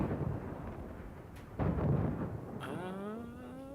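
Torpedoes strike a battleship in the video game World of Warships. Deep, rumbling booms of explosions arrive in a short cluster, followed by a rising mechanical whine.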